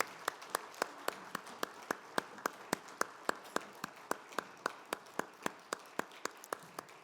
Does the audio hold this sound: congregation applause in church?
yes